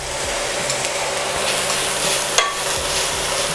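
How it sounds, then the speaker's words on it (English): Garlic and mushrooms fry in olive oil in a pan, giving a loud, close, continuous hiss of sizzling with one brief knock partway through. "once you notice the garlic starts to brown a little, you can add in the mushrooms"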